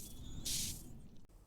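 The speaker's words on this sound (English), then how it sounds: "find the Mr. Confidence Pie menu, and spray on cologne" A Sims 4 character spraying on cologne as a game sound effect, one short soft hiss burst lasting about a third of a second over a quiet background.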